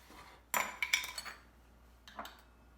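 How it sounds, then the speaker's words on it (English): A fork pokes holes in homemade pizza dough, giving a few quiet clinks and taps against a pan. There is a small cluster of hits and then two more a moment later, close and faint. "I use a fork. I just put a couple holes on the bottom."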